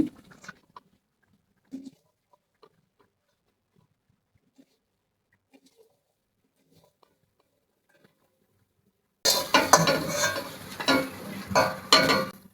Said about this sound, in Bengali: দেখো বড়াগুলো ভাজা হয়ে গেছে, আমি এখন উঠিয়ে নিচ্ছি।